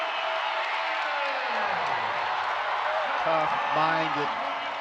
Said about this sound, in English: And the crowd on their feet for that one.